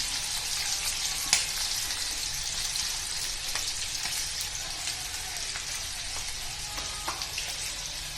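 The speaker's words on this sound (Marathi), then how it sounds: "पहिल्यांदा आपण मीडियम गॅसवर तळून घेणार आहोत" Sweet corn deep frying in oil over a medium flame gives a steady, dense crackling sizzle with occasional sharper pops, close by and continuous throughout, with no voices.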